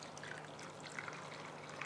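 A gentle, faint trickle of water is poured over strained chhena held in muslin cloth while making cham cham sweets. It runs steadily for about two seconds with no talk.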